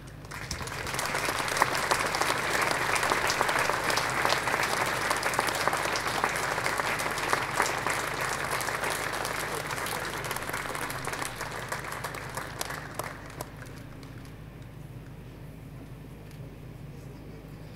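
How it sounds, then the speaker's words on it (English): Sustained applause from a large outdoor crowd at the unveiling of the Jimmy Murphy statue outside the Stretford End at Old Trafford, Manchester United's stadium, dense and steady before thinning and fading over the last few seconds. "You can keep the round of applause going until they walk up the steps"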